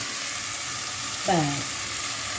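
Mustard paste frying in a pan for a prawn malai curry, a steady soft sizzle throughout with a brief louder hiss as the paste goes in, plus a short voice-like murmur.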